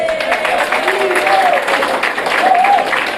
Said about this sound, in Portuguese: Palmas para Lucas.